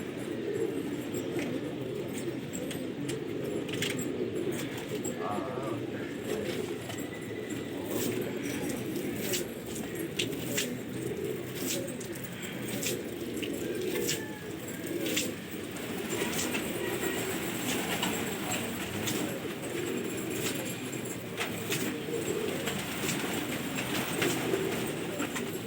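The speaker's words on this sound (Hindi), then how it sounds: "ये जुबैर भाई के कबूतर आ रहे हैं।" A flock of pigeons arrives during a pigeon-flying contest in Lucknow, with soft cooing and scattered bird sounds over a continuous rumbling background like a passing train.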